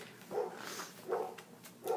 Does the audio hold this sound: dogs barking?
yes